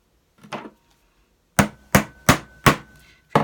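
Hammer strikes punching holes through quiet book binding material: one faint tap, then five loud, sharp, evenly spaced blows up close with no talking.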